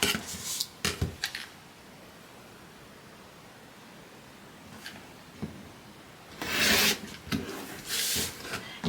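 Scissors or a cutter slicing through quilt fabric along a marked line: a few brief rasping cuts near the start, a long quiet stretch, then a louder burst of cutting and rubbing toward the end.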